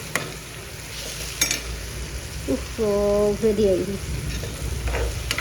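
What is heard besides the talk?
frying food with Maggi masala in a pan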